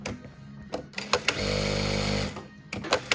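A Durkopp Adler industrial sewing machine runs at 3,000 stitches per minute in a smooth, steady burst of about a second, with sharp clicks and taps before and after.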